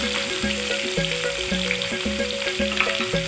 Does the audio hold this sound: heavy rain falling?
no